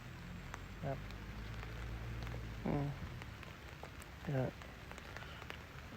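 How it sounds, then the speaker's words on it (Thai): Steady rain patters outdoors during a fishing trip at Huay Tueng Thao in Chiang Mai, a dense, even hiss close by, broken by a few short creaky calls. "ตอนนี้ฝนลงเม็ดอีกแล้วครับ"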